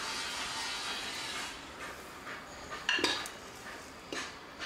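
A metal lid is set on a cooking pot of cooker mandi, with faint background hiss, then a couple of clear metallic clanks and a lighter clink near the end.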